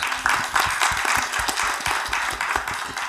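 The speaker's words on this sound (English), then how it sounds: "thank you so much for another applause to in-person a participant here" At a book launch and conversation on Japanese theatre, the audience applauds the in-person participants. Clapping is brisk and continuous, with crisp individual hand claps standing out from the crowd throughout.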